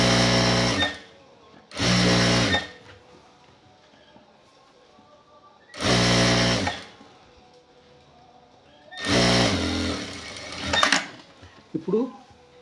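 A sewing machine stitches the folded hem of a checked shirt in several separate loud bursts of a few seconds each, with quiet pauses between them and faint handling sounds.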